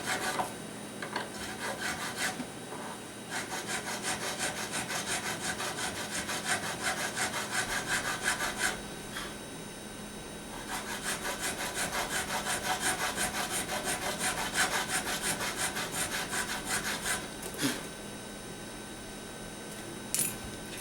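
Nut files rasp back and forth across a guitar nut in long steady strokes, a close dry scraping that pauses briefly a few times over about twenty seconds.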